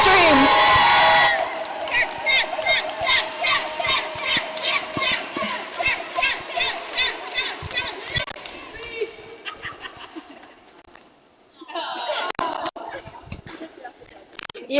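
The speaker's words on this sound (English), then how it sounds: "So everybody give a big applause to Chance and following their dreams." A crowd at the LADD 2026 roller derby bout between Tough Cookies and Scream Queens cheers in a loud opening burst, then keeps up rhythmic whoops and chants that fade before rising again near the end.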